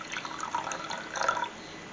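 Water trickles and splashes into a bowl with sugar, laid in as a small amount for bread dough, a brief close pour lasting under two seconds with no talk.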